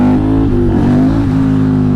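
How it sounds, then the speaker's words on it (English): A KTM 950 SMR twin-cylinder motorcycle engine, freshly carb-synced and rejetted, fires up without choke and settles into a loud, steady idle with a small rev midway, heard close up. "And now it started straight away with no choke"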